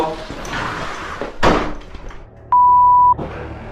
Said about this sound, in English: the door soon slammed shut all on its own